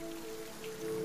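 Steady rain falls in the video game The Last of Us, a continuous patter of drops on surfaces that holds at an even level throughout, with no talking over it.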